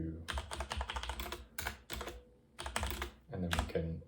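Someone types on a computer keyboard while writing LaTeX math notes, fast bursts of close, crisp key clicks separated by short pauses.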